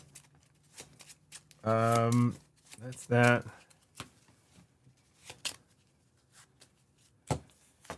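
Netrunner playing cards being shuffled by hand at a tabletop game, two dense riffling bursts close by, with brief speech between them and scattered light handling taps.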